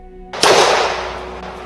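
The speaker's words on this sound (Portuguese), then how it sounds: "O primo de Álvaro aponta sua espingarda e, mesmo João falando que não era uma boa ideia fazer aquilo, ele atira" A single loud shotgun blast cracks out sharply, with a broad burst of noise that decays over about a second against a faint low background hum.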